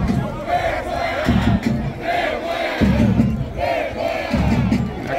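Stadium fans angry over a 4-0 loss chant a protest in unison, the same shouted phrase repeating about four times in a steady rhythm, loud and near.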